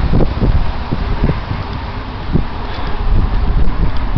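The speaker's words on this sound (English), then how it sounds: "Oh, it's windy." Gusty wind buffets the microphone outdoors, rumbling low and rising and falling in strength, with faint rustling and no talking.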